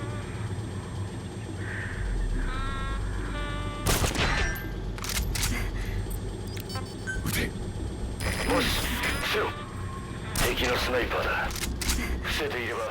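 Sniper rifle shots ring out in Metal Gear Solid V: The Phantom Pain, several sharp cracks spaced across the stretch over a bed of game sound.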